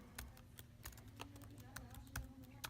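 Quiet clicking of fingers typing on a computer keyboard, irregular rapid keystrokes with small bursts and pauses, faint and close with a low background hum.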